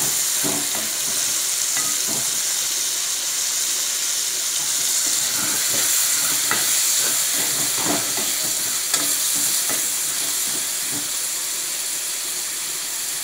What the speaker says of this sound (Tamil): காளான் சேர்த்ததுக்கப்புறம் எடுத்து ஒரு டைம் நல்லா கிளறி விட்டுட்டு